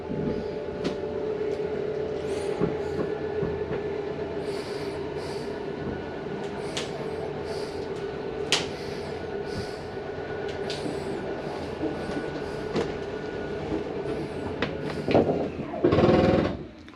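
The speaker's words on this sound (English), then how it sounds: "If you hear that on any of the slides, that's how the slide mechanism keeps itself from coming in too far or out too far." Slide-out mechanism on a Jayco Northpoint 382FLRB RV dinette slide, a steady mechanical rumble with scattered clicks and knocks, then a louder grinding burst near the end, fairly faint and close, with no voices.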